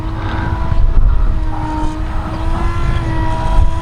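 Tobyrich Moskito smartphone-controlled toy airplane's small propeller motor buzzing steadily in flight, a sustained droning whine with slight pitch shifts as throttle is adjusted, close and fairly loud against wind.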